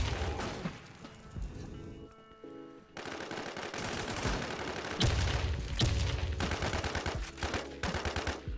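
Rapid automatic gunfire and bursts of shots in the online shooter Warz Deadzonez, loud and dense, with brief gaps between volleys and booming impacts throughout.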